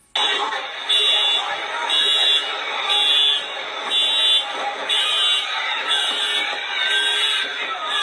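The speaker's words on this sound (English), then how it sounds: "You can hear the honks. You can hear the sirens going off." Repeated loud electronic alarm tones pulse about once a second over a steady wash of street noise, with car horns and sirens blaring nearby.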